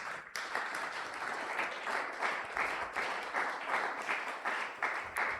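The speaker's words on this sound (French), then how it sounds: "Est-ce que tu peux encore acclamer très fort?" A church congregation at a Sunday worship service applauds loudly, with sustained crowd clapping and rhythmic surges of cheering filling the room after a sharp start.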